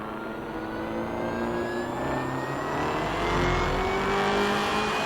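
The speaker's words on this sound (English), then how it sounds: "Listen to the whine that this car makes." A race car in the video game Night Runners revs and accelerates, its straight-cut gears giving a rising high-pitched mechanical whine climbing steadily over a droning motor, close and continuous, no voices.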